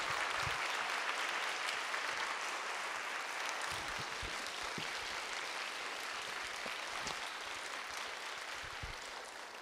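A church congregation at a young adults' service claps steadily and warmly for nearly ten seconds, a dense continuous wash of applause that tapers slightly toward the end, with no clear speech over it.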